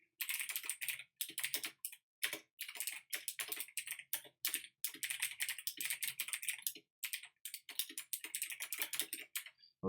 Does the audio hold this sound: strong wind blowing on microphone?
no